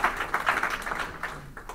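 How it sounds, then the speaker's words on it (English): A marching crowd at an interfaith solidarity march in Los Angeles claps in brief, moderately loud applause, a scattered patter of hands that thins out toward the end. "let's give him a round of applause for all that cheering on the route"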